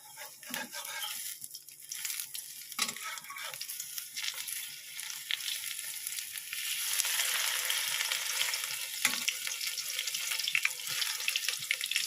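Coriander leaf pakoras frying in hot oil give a steady, close crackling sizzle that runs the whole time, with a few louder pops and clinks along the way and no voices.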